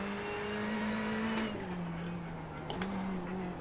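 Ferrari race car in the iRacing sim during a BMW Cup race, a steady engine drone holding pitch, dipping briefly mid-run as if lifting off, then settling again with faint tire noise, continuous and close.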